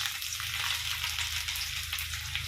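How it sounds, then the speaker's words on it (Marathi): Cumin seeds and garlic crackle in hot oil as a tempering for a traditional Maharashtrian khengat vegetable dish, a dense, steady sizzle heard up close with a low hum beneath. "तेल आता आपलं गरम झालंय आता मी जिरे आणि लसूण फोडणी देणार आहे"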